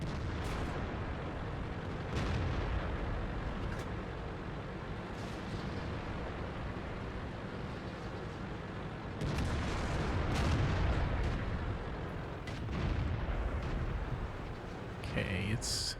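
Tank cannon fire in the World of Tanks video game, with several heavy booms across a dense rumbling battle bed, the loudest burst around the middle, while someone talks over it.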